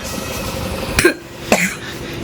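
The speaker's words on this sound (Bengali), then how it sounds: "সব কাশি আমার নিজের কাশি" Two short, sharp coughs from one person indoors, about half a second apart, loud and close, with a quiet room background.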